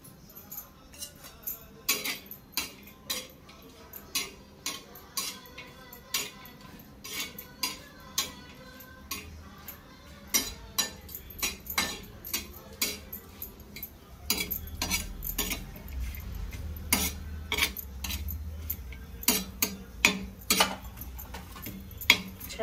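Coconut roasting in oil for a Nagar-style black chicken curry, a spatula scraping and clinking against the pan in a steady, repeated rhythm over a soft sizzle, growing busier toward the end, no speech.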